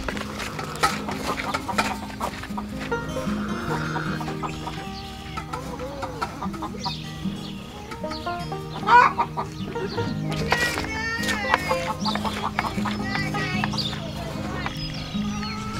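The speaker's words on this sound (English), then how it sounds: "And the chickens." Chickens clucking on a farm on a rainy morning, a steady stream of nearby clucks and squawks alongside other farm animal calls, with brief bursts of louder noise.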